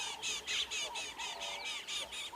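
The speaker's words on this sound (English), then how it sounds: "you can hear there's a bird alarm calling at her" A bird gives a rapid series of harsh, scolding alarm chips at a predator on an African safari at sunrise, about ten in quick succession, steady and fairly close.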